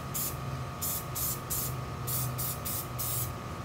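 Krylon spray paint with built-in primer hisses onto plastic in about eight short, evenly spaced bursts, close and steady, with no talking.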